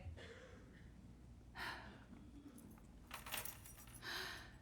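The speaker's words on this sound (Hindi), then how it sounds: "मैंने चाबियां यहाँ रख दी हैं।" A set of keys is set down in a quiet room, making a few faint, brief metallic jingles with soft rustles and breaths between them.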